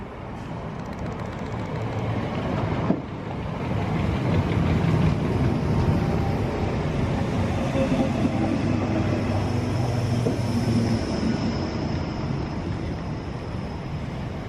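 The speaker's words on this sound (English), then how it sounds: "This is a 12 coach train." A 12-coach train at Wolverton rumbles past in a sustained, loud low roar of wheels and coaches, with a sharp knock early on, before it slowly eases off.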